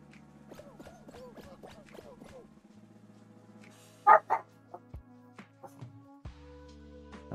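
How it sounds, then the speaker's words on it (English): Puppies barking: a quick run of small, high yips and barks, followed by a few thumps and scrapes, all fairly quiet and close. "Puppies."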